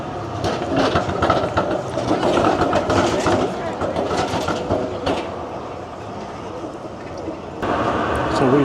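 Riding a Melbourne tram from Flinders Street station, with rumbling wheels and rhythmic rail clatter under continuous cabin noise, and people talking over it.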